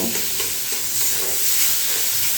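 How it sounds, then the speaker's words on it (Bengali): Boiled eggs fried with onions in a pan: a close, even hiss of frying oil with faint crackles and stirring, steady and unbroken, no voices. "এখন এই পেঁয়াজের সঙ্গে এই ডিমটাও একটুখানি ভেজে নেব"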